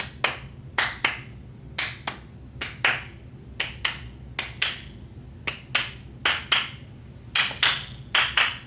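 A voice imitates a hand-clapping beat with about twenty sharp snap-like claps in an uneven rhythm, close and fairly loud over a low steady hum.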